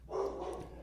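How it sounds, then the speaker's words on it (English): A dog barks once, a short muffled bark heard indoors at a moderate distance with a little room noise around it. "I hear the secretary barking"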